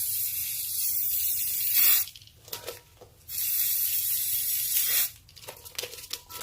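A spray gun splatters paint onto an epoxy tumbler in short bursts: a long bright hiss, two brief sputtering spurts, another sustained hiss, then choppier spattering, close and loud with quiet gaps between.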